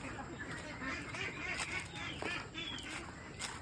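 Thirteen-day-old ducklings cheep and peep in a dense, continuous chorus, close by, with faint background noise and no talk.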